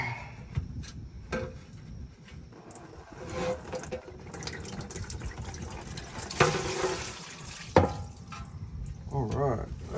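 Transmission fluid draining and dripping from the pan of a 2016 Ford F-250 6.7L PowerStroke into a container, a steady liquid trickle with splashy bursts, close by, with a person talking over it.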